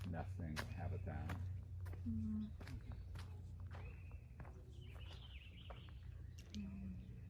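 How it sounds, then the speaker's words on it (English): Small birds chirping and calling at a pond on Bainbridge Island, with brief tweets and whistles over a low steady rumble, close footsteps and a few people talking. "can hear the birds now."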